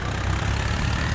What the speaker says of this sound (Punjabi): ਮੈਂ ਕਰ ਲਿਆ ਸਮਰਾਜ ਸਟਾਰਟ